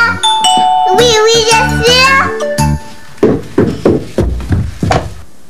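A doorbell-like ding-dong chime rings out in a children's song, with bright tonal notes and a singing voice echoing the chime, followed by several sharp percussive knocks.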